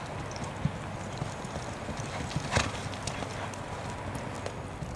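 Horse hooves clip-clop steadily on a hard surface in a riding arena, a loose walking rhythm over a constant low rumble of background noise.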